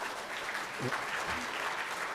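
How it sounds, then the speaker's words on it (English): Audience at the Hult Prize finals, a university business competition event, claps steadily in a continuous patter of applause for about two seconds, with a faint voice briefly underneath. "Let's give them a round of applause."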